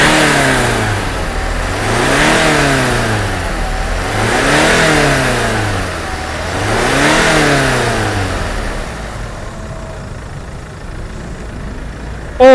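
A Mercedes-Benz E220 CDI (W212) diesel engine revs up and down three times in smooth, rising swells, then settles back to a steady idle, close and loud.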